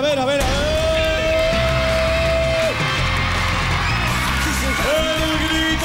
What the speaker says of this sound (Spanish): El grito del público.